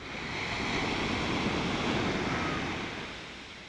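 Sea waves wash steadily onto the Taiwan coast, a soft continuous rush of surf that swells and eases, with some wind and no voices.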